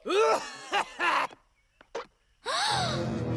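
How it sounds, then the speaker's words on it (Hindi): A cartoon pony coughs from thick black smoke: a loud burst of several harsh coughs, a pause with faint gasps, then a long rasping coughing fit, all close and without talk. "तुम इस काले गंदे धुएं की वजह से खांस रहे हो"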